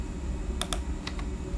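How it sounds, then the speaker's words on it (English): A few sharp computer keyboard key presses, quiet and close, two quick clicks followed by a couple more after a short pause over a faint background hum. "press S1 key on keyboard to make a"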